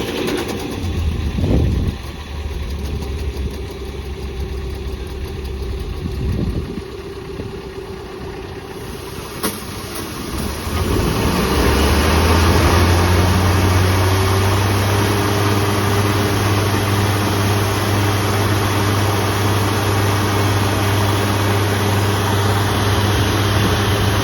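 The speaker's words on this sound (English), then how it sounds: "this machine is pushing more water at idle than that hose can handle" Spartan Warrior hydro jetter engine idling, a steady mid-to-low engine drone with a rise in level partway through, running on alone without speech.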